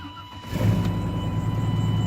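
A 383 V8 car engine runs close by, a low, rumbling idle that swells after a short quiet start and holds a steady, throaty drone.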